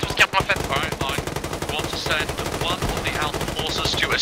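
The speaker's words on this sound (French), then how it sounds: "Tire de suppression, tu mets tout ce qu'il y a en fait." Continuous suppressive machine-gun fire in the military video game Arma 3, a dense, steady stream of rapid shots, with voices talking over it.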